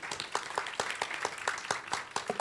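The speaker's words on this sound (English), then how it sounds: "I'd ask you to join me in giving our panelists a round of applause" A conference audience applauding a panel: a quiet, rhythmic run of individual claps, evenly spaced and a little distant, steady to the end.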